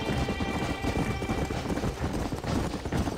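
Horse galloping in Red Dead Redemption, with dense, rapid hoofbeats pounding steadily and loudly throughout, up close and with no break in the rhythm.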